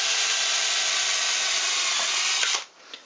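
A power drill bores holes through a gear and a template pressed together, giving a steady, loud whirring drone for about two and a half seconds before cutting off, followed by quiet.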